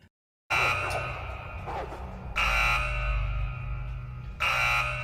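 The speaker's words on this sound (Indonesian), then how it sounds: "tiba-tiba alarm kurungan milik Sean berbunyi." A loud electronic cage alarm buzzer blares in long harsh bursts from a film, starting abruptly after silence and repeating with brief surges.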